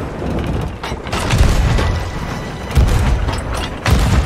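Heavy cannon fire loaded with chain shot on a pirate ship in Sea of Thieves, loud booming blasts in a chaotic, continuous battle din with several stronger thumps near the end.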